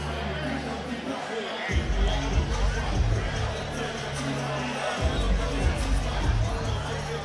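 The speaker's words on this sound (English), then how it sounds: "Crowd enjoying the party atmosphere here." At a Karate Combat event, an arena crowd buzzes and cheers in a steady, broad roar, with surges of applause and shouting running under a commentator's voice throughout.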